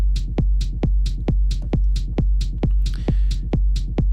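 A distorted techno loop pounds with a steady kick drum, each thump followed by a bright hi-hat tick, repeating evenly at about two beats per second, loud and alone.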